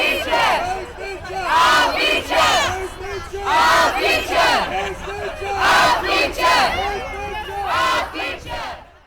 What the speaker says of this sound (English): but they're all chanting.